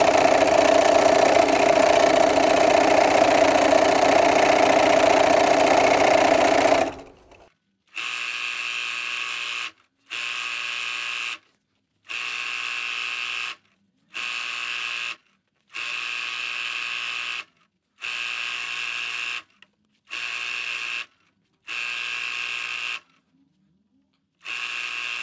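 A sewing machine stitches long jelly roll quilt strips, starting with one steady whirring run of about seven seconds, then after a short pause running in repeated bursts of roughly two seconds each, separated by brief silences, close and fairly loud with no talking.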